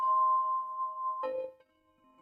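A quiz countdown bell ringing as time runs out, a sustained clear ding that holds steady and then shifts into a second lower tone before fading, heard alone without talk.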